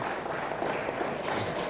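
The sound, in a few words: audience applause for award recipient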